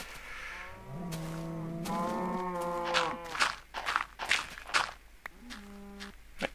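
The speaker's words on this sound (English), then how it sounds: "Shut up, cows." Blocky Minecraft cows mooing repeatedly on a video game farm, several long drawn-out moos in sequence with short shuffling steps between, fairly quiet and with no talk over them.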